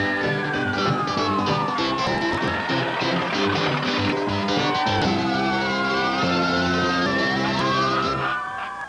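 Several emergency vehicle sirens wail and yelp at once, loud and close, with rising and falling tones overlapping over a steady engine rumble; the sirens continue throughout before fading slightly at the end.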